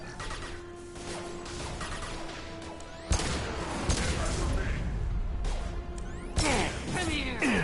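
Combat gunfire and heavy impacts in Mass Effect 2, dense overlapping bursts and crashes building in intensity, with loud hits around the midpoint and near the end, plus voices shouting under the clamor.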